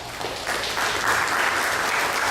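Steady applause from a room full of people, dense and continuous clapping at moderate loudness throughout.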